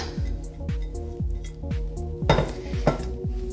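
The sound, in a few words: mixing muffin batter with ham and cheese in a bowl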